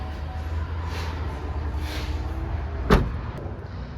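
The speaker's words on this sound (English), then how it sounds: "we can close it up by just pushing the button" The power rear liftgate of a 2019 Cadillac Escalade Platinum closing, a low motor whir that ends in a single solid thud as it latches, close by with no talk.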